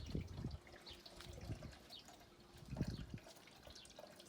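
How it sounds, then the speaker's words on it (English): A small garden water fountain trickles and splashes softly, with quiet gurgling bursts recurring irregularly, faint and close by, alone without voices. "This is my little water fountain, which makes it really soothing."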